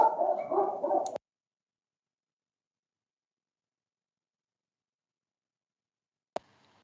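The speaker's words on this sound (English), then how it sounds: "I think the dog agrees, I can hear in the background." A dog barks a quick run of yaps, clear and fairly close, followed by a long silence and one faint distant click.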